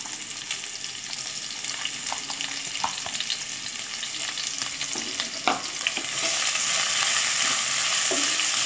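Sliced onion sizzles steadily in a hot pan, a dense crackling hiss with scattered sharp clicks and scrapes as it is stirred; the frying grows louder and brighter toward the end, with no talking.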